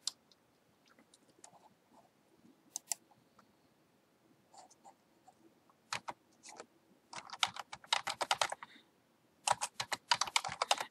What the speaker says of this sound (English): So I'll just type in name,